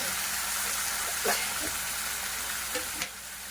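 Tomatoes and tamarind frying in a pan, a soft continuous sizzle with a few faint clinks of stirring scattered through.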